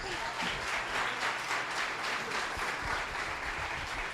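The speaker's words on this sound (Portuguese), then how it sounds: "Vamos aplaudir o Senhor Jesus." A church congregation breaks into applause during a sermon, a dense, sustained wash of many hands clapping from a crowd, heard at a moderate distance.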